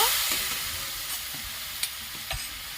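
Soaked ground spices and coriander powder being sautéed in a pan for a vegetarian fig curry, giving a steady close sizzle with a few sharp stirring scrapes and clinks.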